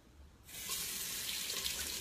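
Water runs from a tap into a sink during rinsing, starting abruptly as a steady, fairly loud hiss and splash that keeps on without a break, with no one talking.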